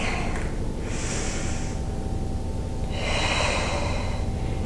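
Two long, breathy exhales during a Pilates leg exercise on the mat, each a soft rushing breath lasting over half a second, close and clear against a steady background hum with no talk.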